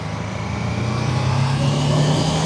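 A BMW F450GS motorcycle cruising on a highway, its engine a steady drone with a sustained tone rising slightly over wind and road noise, loud and constant.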